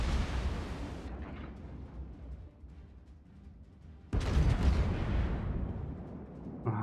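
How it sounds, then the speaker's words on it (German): Naval cannon fire in the World of Warships video game, heard as dense rumbling blasts that carry on continuously, with a heavier, louder burst of booming about two-thirds of the way through. "Manchmal kommen die Schüsse hier aber auch raus aus dem Kanonenrohr"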